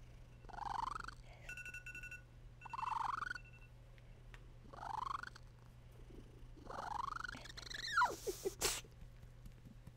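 A pet cat purrs in a low, steady rumble close by, broken by several rising chirp-like calls and a few soft bumps near the end.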